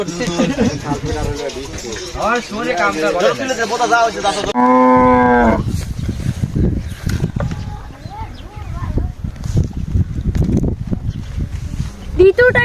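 Cattle moo loudly at a cattle farm on the Reshambari bathan pasture in Shahzadpur, with one long, strong call midway while people talk nearby throughout.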